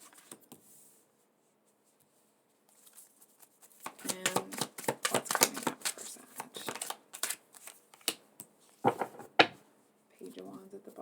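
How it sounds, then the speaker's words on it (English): A deck of tarot cards is shuffled by hand, producing rapid papery riffling and flicking in bursts after a quiet start, with short pauses between rounds. "Let's pull a few more cards"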